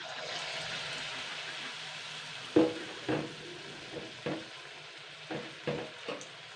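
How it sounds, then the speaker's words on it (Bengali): Battered wood apple fritters frying in oil give a steady close sizzle, broken by a series of sharper spitting bursts and scraping stirs at irregular intervals. "এইভাবে যে কটা আছে আমি সে কটাই কিন্তু ভেজে নেব।"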